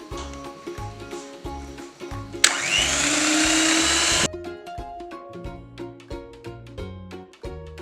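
An electric hand mixer beats eggs into creamed sugar and margarine for strawberry cupcake batter, a loud steady whir lasting about two seconds between stretches of background music.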